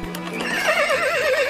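A horse whinnies loudly and close, a rising then wavering neigh of about a second, with no talk over it.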